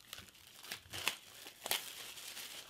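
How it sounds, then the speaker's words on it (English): Cellophane wrapping torn and crinkled off a boxed game package, with a few sharp rips between quieter rustling, fairly faint and close. "let's get the cellophane off this one"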